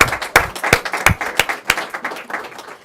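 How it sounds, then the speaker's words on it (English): An audience at a provincial parent engagement event claps, with a few sharp, loud individual claps over a softer spread of clapping that tapers off. "I think they deserve a round of applause along with all of you"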